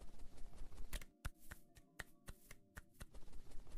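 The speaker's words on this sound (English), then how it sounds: "That foot-clapping sound is going to drive me insane." Foot-clapping effect in the video game BirdGut, a series of crisp, sharp taps at a quick uneven pace over faint game background sounds.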